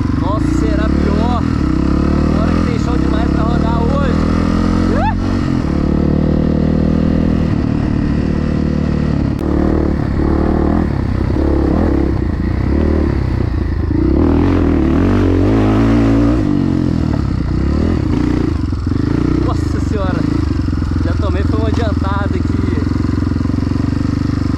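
Motorcycles accelerate and rev steadily through a 345 km dirt trail ride at the Cerapio 2022 event, engine drone loud and continuous throughout with clattering, under someone talking over it.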